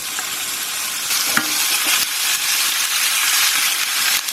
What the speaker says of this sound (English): And we're going to sear this pork.